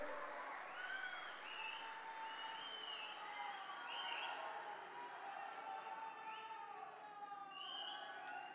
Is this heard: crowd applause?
yes